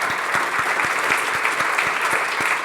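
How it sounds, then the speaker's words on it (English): Audience applauding a panel at the close of a climate risk discussion event, a dense, steady round of clapping from a sizeable room, with a few sharp individual claps standing out near the front. "Can I have a round of applause for our wonderful panel?"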